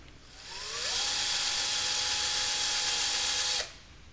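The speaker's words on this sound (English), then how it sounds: "now we'll go ahead and drill" A power drill bores two holes into the dashboard of a 5th-gen Toyota 4Runner, spinning up with a rising whine and then holding a loud, steady high-pitched drone before stopping abruptly, close and without talk.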